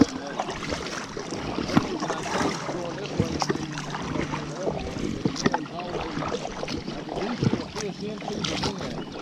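Wind gusts buffet a microphone while a cheap fishing kayak is paddled on open water, with rushing noise and splashy knocks throughout and a person talking underneath.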